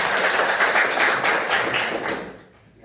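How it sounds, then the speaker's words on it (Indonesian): A classroom full of students claps together, a dense, steady burst of hand clapping close by that fades out near the end. "Tepuk tangan untuk semua."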